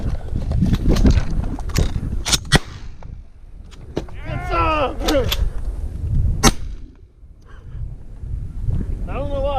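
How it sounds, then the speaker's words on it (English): Shotgun fired during a goose hunt, with sharp, loud reports cracking out amid wind noise and someone talking between the shots. "I don't know why I shot him again."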